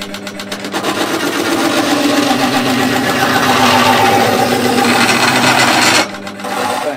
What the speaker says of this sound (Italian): Faccio riposare un attimo il motore, che ormai è già da un'oretta che sta girando